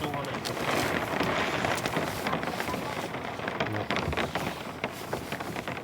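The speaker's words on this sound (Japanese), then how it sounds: "パパはでも雨の音好きだから。" Rain patters on the roof of a camper van during stormy weather in Akita, a dense steady hiss of drops close overhead, with faint voices now and then.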